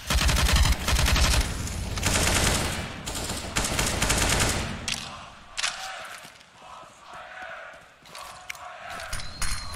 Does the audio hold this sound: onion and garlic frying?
no